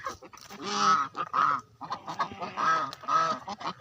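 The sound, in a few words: flock of domestic geese honking by a river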